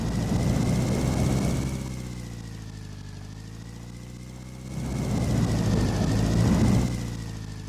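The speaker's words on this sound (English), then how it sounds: "Holy moly, that engine's getting loud." A loud car engine droning steadily while driving, a strong low rumble with a rising and falling whine that swells, eases for a few seconds, then builds again, with no voices over it.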